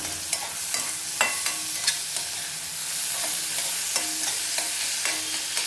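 Chopped tomato frying in a pan for egg curry, with a constant close sizzle and repeated sharp taps and scrapes of a spoon against the pan.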